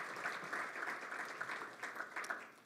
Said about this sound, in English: So let's give them a quick round of applause.